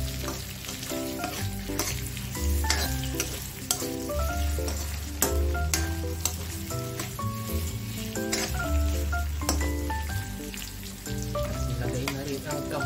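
Chopped onion sautés in a pan for ginisang halaan (clams), giving a loud, continuous sizzle with occasional stirring scrapes over faint background music, with no talk.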